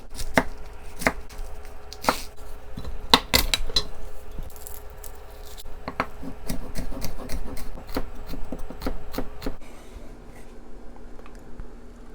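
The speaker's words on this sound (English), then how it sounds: "Just gonna roughly chop this cabbage in strips." A knife roughly chopping cabbage into strips on a board, with sharp, close, irregular chops and crunchy rubbing between them, and a quieter stretch near the end.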